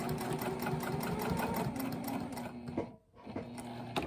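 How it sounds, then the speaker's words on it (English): A sewing machine stitches the straight edges of a fabric corner bookmark with a steady, rhythmic mechanical hum. It pauses briefly, then resumes. "I'm gonna go to the machine and I'm just gonna stitch across the straight edge and then down that other one"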